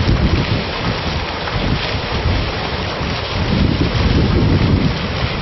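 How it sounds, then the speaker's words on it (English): A small waterfall on a university campus pours in a constant dense rush of falling water, loud and close, steady throughout without voices. "So we have our own little waterfall here."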